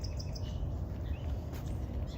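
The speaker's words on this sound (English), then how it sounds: "You can hear a lot of birds." Birds call in the wetlands along Cowles Bog Trail, several short chirps and tweets scattered over a steady low outdoor rumble, fairly faint and somewhat distant, with no speech.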